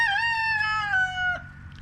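A rooster crows once close by, a long clear drawn-out call in a chicken yard, trailing off with faint low clucking from other chickens behind.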